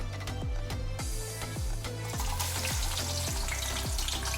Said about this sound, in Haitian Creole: J'ajoute les oignons pour frire.